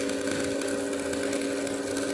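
Steady arc welding with a Daiden Shoji 8000 auto-darkening welding helmet setup: a continuous, even buzzing hum holds unbroken at constant loudness for the whole stretch, with no voices.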